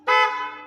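A single short blast from the upgraded horn of an electric city bus, a bright, steady harmonic tone that starts abruptly and fades slightly, close and loud with no voices.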